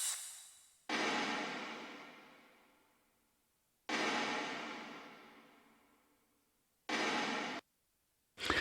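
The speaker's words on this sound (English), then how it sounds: "reverse cymbal and some snare bones, just to give the intro a bit of smack" Reverse cymbal and reverb-heavy snare bomb hits from a metal mix intro: a rising swell cuts off, then three booming hits each fade out in long reverb tails, spaced about three seconds apart, with no voices.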